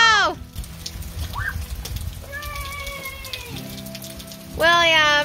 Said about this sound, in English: We're just so happy for rain, aren't we?